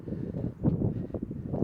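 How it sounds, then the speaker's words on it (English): Wind blows outdoors on a sunny day, heard as low, steady buffeting rumble against the microphone with gusty swells and no talk. "Today is sunny and 70 degrees, but it's windy, which you can probably hear."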